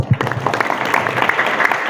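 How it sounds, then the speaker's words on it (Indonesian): A school hall audience at a junior high motivational session breaks into applause, a brief burst of many hands clapping that carries on steadily and fairly loud for a couple of seconds. "Boleh akhiri dengan tepuk tangan."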